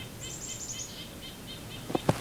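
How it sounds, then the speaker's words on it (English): Agitated calls from nuthatches and chickadees on a winter bird count, a run of thin high chirps early on, then two sharp louder calls near the end, heard at a distance outdoors. "And now, the nuthatches are angry about something"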